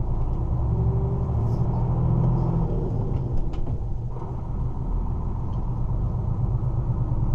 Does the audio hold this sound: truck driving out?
yes